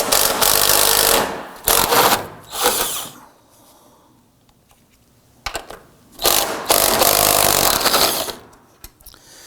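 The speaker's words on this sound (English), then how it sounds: "We're going to go ahead and remove those there using our 13mm." A ratchet wrench with a 13mm socket loosens the front strut top nuts on a 2005-2009 Subaru Legacy, in two loud runs of rapid clicking separated by a quiet pause with faint handling noise.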